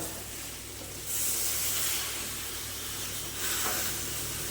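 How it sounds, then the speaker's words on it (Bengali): Water poured into a hot pan of sautéed cabbage for a cabbage dalna hisses in two loud, broad bursts of steam, the second after a short lull, with no voices. "বন্ধুরা এবার দিয়ে দিচ্ছি জল"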